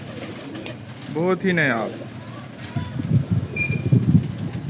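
An Indian Lakha pigeon, a breeding male, gives soft cooing calls and a burst of wing flapping close by, with someone talking over and between the bird sounds.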